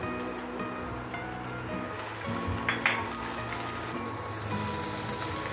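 Garlic and onion fry in a pan for a dish of sarciadong pampano, a steady close sizzle with bursts of crackle and light stirring throughout, louder toward the end, with no talking.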